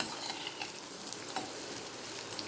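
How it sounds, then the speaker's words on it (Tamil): Beans and onion sautéing in a pan for a hotel-style beans poriyal: a steady, close sizzle with scattered scraping stirs throughout, no voices. "பீன்ஸு வெங்காயம் நல்லா வதங்கி வருது"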